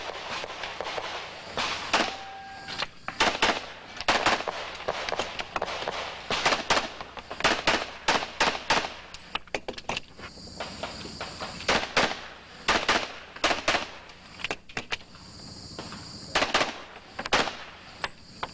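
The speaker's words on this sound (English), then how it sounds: "Our next shooter is a man who's been shooting competition pistols since it all began, Tom Campbell with Team Smith & Wesson." Competition pistol shooting at a USPSA national championship stage, with rapid bursts of sharp gunshots echoing from a moderate distance, grouped in quick strings with brief pauses between them.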